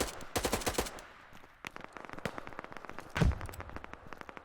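Short bursts of automatic fire in the video game Operation: Harsh Doorstop, a loud volley first, then quieter scattered shots and a heavier blast.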